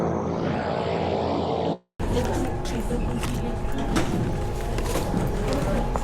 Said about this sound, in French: Et ça, c'est un autre de nos avions.